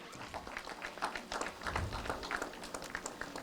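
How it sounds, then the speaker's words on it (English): Applause from an audience at a panel discussion on AI and cybersecurity, scattered individual claps forming a light, uneven patter, fairly faint and distant. "A big round of applause, ladies and gentlemen."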